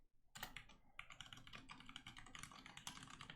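Rapid, continuous typing on a computer keyboard while writing C code, a dense run of close key clicks with no pauses and no talking.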